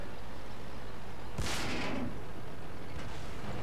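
A single loud, sharp tank cannon shot in World of Tanks booms out mid-clip, with a fainter second report trailing after, over constant game background noise.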